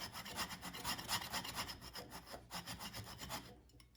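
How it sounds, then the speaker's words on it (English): Rapid back-and-forth scuffing as a surface on a John Deere D105 riding mower is roughed up by hand, a close, rhythmic rasping rub of even strokes that stops near the end. "So we'll give this a little bit of a scuff. Try to rough that up a bit."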